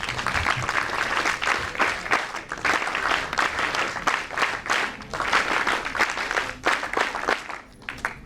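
Big round of audience applause at a National Integration Camp inauguration ceremony at NSUT Delhi, dense sustained clapping from a large crowd that swells and dips in waves over the full stretch.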